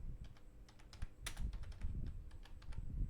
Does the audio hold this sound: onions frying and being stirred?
no